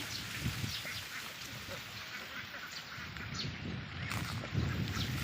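Ducks of a mixed breed, some black, graze on grass in the evening, giving a steady scatter of quacks and low rustling close by, with a faint voice now and then.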